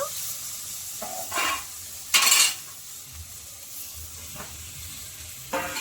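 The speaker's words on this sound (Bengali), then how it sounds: "এবার আমি এর মধ্যে এঁচোড় আলু দিয়ে 5 মিনিট একটু কষিয়ে নেব" Jackfruit and potato fry in spice masala, a low continuous sizzle broken by several separate scrapes and clinks of a spoon against the pan, one notably louder, heard up close with no talking.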